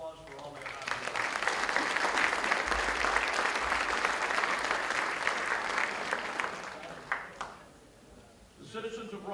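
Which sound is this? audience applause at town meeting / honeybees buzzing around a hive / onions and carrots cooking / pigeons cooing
audience applause at town meeting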